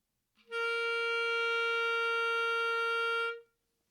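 A single sustained clarinet note, C, clear and steady, held for about three seconds before stopping cleanly.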